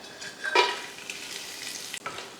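Whole spices, cinnamon, cloves, cardamom, star anise, stone flower and bay leaves, frying in hot oil for mutton biryani, giving a soft steady sizzle with a brief stirring scrape near the start and a faint clatter near the end.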